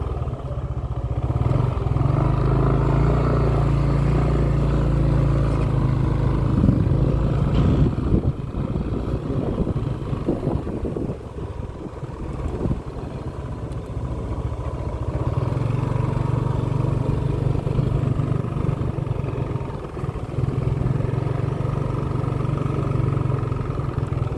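Motorcycle engine runs steadily close by while riding around, a continuous mid-pitched drone with slight rises and dips and some rattling clatter, no talk over it.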